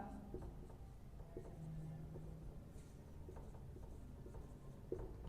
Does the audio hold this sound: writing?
yes